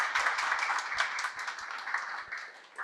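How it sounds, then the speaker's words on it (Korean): An audience at a police academy information session claps steadily to welcome a speaker, dense even applause filling the room with no voices. "자, 큰 박수로 좀 맞이해 주세요."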